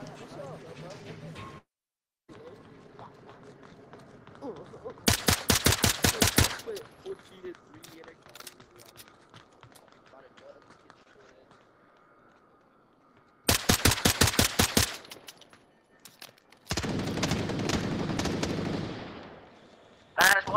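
Gunfire in the Onward VR video game: three loud close bursts of rapid automatic fire separated by quieter stretches, with a voice talking between them.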